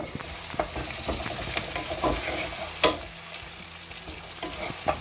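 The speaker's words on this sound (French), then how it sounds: "je mélange bien mon poisson avec la mixture" Fish being stirred and mixed into a spiced mbongo tchobi paste, with soft wet squelches and a few sharper clicks under a steady background hiss, close and moderately loud.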